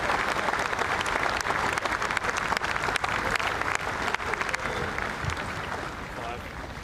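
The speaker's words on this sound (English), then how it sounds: "Let's hear the applause here for Jon Rahm." A golf tournament gallery at the BMW PGA Championship applauds Jon Rahm, dense clapping and crowd noise rolling on steadily with a commentator talking over it, easing slightly toward the end.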